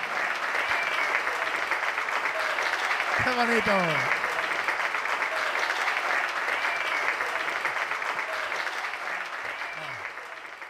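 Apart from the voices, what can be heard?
applause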